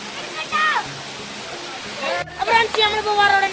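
Rushing water from the Baroda waterfall at Karuvarakundu, Kerala, roars steadily, with people talking and calling over it.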